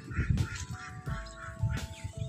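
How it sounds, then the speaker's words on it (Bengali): Ducks at a village pond quack repeatedly in close, rhythmic bursts of nasal calls, fairly loud against a quiet outdoor background. "এদিকে দেখুন হাঁস"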